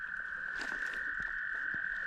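Toads call at Sand Lake along the North Country Trail in Michigan during mating season, a steady, unbroken high trill that runs throughout at moderate distance, with a few faint knocks and rustles beneath it.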